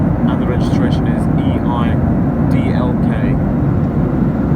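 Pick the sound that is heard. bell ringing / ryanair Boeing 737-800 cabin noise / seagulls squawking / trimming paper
ryanair Boeing 737-800 cabin noise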